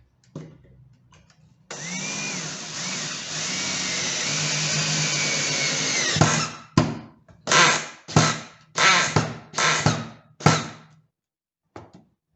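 A power drill drives a 2.5-inch screw into a wooden corner shelf: one long steady whirring run of about four and a half seconds, then five short, loud bursts as the screw is driven home. No talking.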